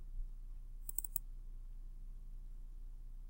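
Quiet computer mouse clicking, a quick cluster of three or four sharp clicks close up against a faint steady hum, then near silence.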